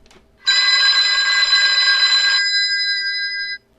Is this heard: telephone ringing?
yes